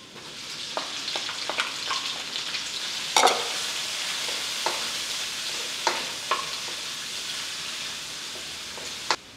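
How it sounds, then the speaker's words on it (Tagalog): Garlic and onion sauté in hot oil in a pan for Ilokano igado, giving a steady sizzle broken by repeated scraping stirs, one louder clatter near the middle. "Then susunod na rin natin yung sibuyas."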